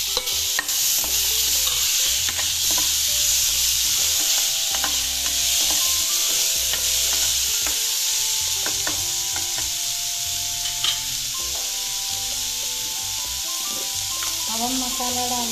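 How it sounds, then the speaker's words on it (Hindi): Onions frying in a pan on a gas stove as chopped tomatoes go in, giving a steady broadband sizzle with scraping stir strokes throughout, close and fairly loud. "प्याज हमारा भून रहा है, अब हम इसमें डाल देते हैं, गैस थोड़ा तेज करते हैं। टमाटर डाल देते हैं कटे हुए"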